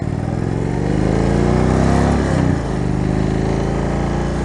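Indian Springfield motorcycle engine revving up loudly and steadily, with a brief dip in throttle around the middle before climbing back to a sustained, rumbling roar close to the listener.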